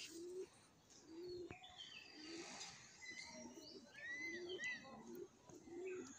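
A male pigeon gives soft, low coos at a steady pace, close by. Chirps and tweets from other birds sound in the background.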